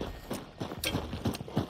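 Horse hooves clip-clopping in a dark frontier-era hunting shooter video game, a few uneven hollow thuds at a walking pace, moderately distant and soft.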